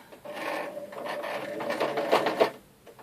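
A sewing machine runs a few short holding stitches, a brief close mechanical whirring and clatter that rises and falls over about two seconds, with no talk.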